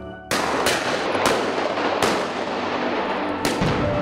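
Loud gunshots ring out during an Old West style mounted shooting event on horseback, several sharp reports spaced about a second apart over a dense, continuous noisy background.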